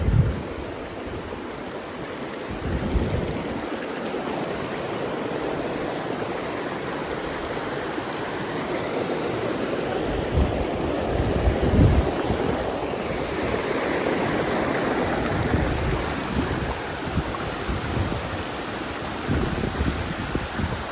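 Waterfall at Poondi in Kodaikanal pours in a steady, dense rush of water at close range, with no talk over it.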